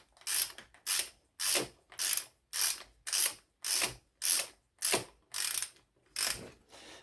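A square taper bicycle bottom bracket being tightened with a ratcheting tool: about eleven loud, evenly spaced clicking ratchet strokes, close up, with no talking.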